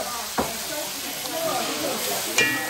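Tomato sauce being stirred and simmered in a pan, with a steady soft sizzle and a couple of sharp utensil knocks against the pan.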